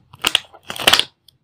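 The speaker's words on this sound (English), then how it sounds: "Okay, let's cut and unwrap it." Plastic packaging around a TCS34725 RGB color sensor module being cut and unwrapped, giving two short bursts of crinkling and crushing, close and fairly loud, with a brief pause between them and no talk.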